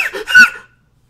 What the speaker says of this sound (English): Sorry for my dog whimpering noises.